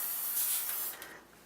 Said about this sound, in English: So I want to coat them with some cooking oil, and I just use a canola oil spray all the time.